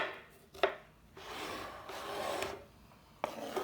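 A knife chops onions on a board, with two sharp taps and long scraping sweeps of the blade between them, close and fairly quiet.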